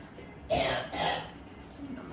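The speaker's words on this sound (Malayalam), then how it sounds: "എനിക്ക് നല്ല ചുമയൊക്കെയാണ് കേട്ടോ" Two short, rough bursts close together, a throat clear and a cough, followed by quiet background.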